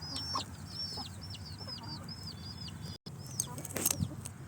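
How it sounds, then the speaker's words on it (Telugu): Free-range country hens and chicks cluck steadily at water drinkers on an organic farm, with low background noise and a brief dropout midway. "చూడండి కోళ్ళు అలా తాగుతాయి డ్రింకర్లలో వాటర్ పెడితే"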